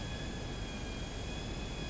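An airplane engine drones inside GTA 5, a steady, even whine and rumble with a constant tone and no change in loudness, heard alone without voices.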